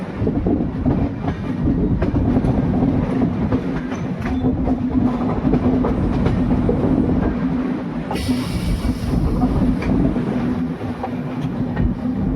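Passenger express train curving on rails near Jaipur, a steady loud rumble with rhythmic clickety-clack of wheels over joints throughout, heard from on board with a brief brighter hiss partway through and no voices.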